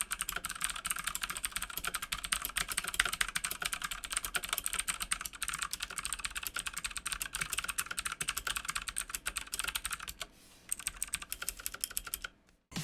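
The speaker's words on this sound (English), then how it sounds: "here's a quick sound test of the Altimu Blue switches on the First Player Firerose" Steady, fast clacking of a First Player Firerose mechanical keyboard with clicky Altimu Blue switches, close and continuous, with a brief lull near the end.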